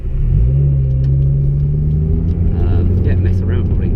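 A Subaru SVX on the road, its engine a loud, close, steady rumble with a rising drone, and a voice talking over it.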